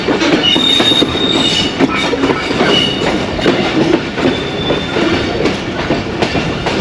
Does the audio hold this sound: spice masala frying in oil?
no